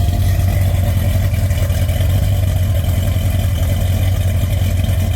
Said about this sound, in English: First time this car's moved on its own, probably.